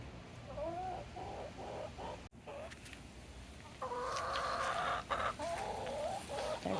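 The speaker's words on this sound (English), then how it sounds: "Hello, chickens." Young chickens cluck and murmur close by at dusk on a spring homestead, a busy run of overlapping clucks and trills that grows louder and denser partway through.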